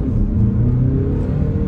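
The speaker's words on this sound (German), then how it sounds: "jetzt beschleunige ich mal durch" A 2022 VW Tiguan Allspace facelift with a DSG gearbox accelerating hard toward 100 km/h, a steady loud engine rumble and whir heard from inside the cabin with no talk.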